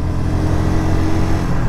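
A Yamaha Ténéré 660 motorcycle engine revs loud and close, a steady, dense mid-pitched roar that holds without pause for the whole short stretch.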